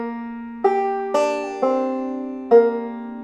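A banjo picked in two-finger, thumb-lead style plays a slow measure of "Pretty Polly": about five separate plucked notes, each ringing bright and decaying, clear and close with no other sound.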